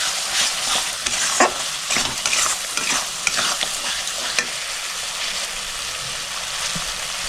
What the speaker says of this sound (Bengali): নুনটা দিয়ে ভালো করে মিক্স করে নিচ্ছি।